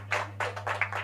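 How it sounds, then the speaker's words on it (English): Hands clap at a youth, green and digital jobs session, about four separate close claps over a low steady hum. "Everyone clap hand for yourself."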